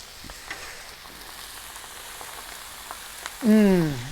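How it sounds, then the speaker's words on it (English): Steak and chicken sear on a Blackstone flat-top griddle, a steady close sizzle running throughout, with a brief louder tonal scrape or squeak near the end. "Nice sear going on this steak."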